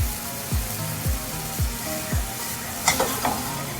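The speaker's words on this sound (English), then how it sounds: "it's important that we cook the wine away and reduce the thing" Red wine sauce reducing in a pan for pork tenderloin, a steady frying sizzle with several rhythmic stirring scrapes and a few brighter splatters near the end.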